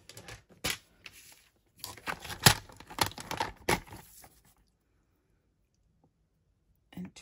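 A paper trimmer slices through cardstock during handmade card making, giving a close series of sharp clicks and tearing scrapes over about four seconds, then quiet before one last brief click.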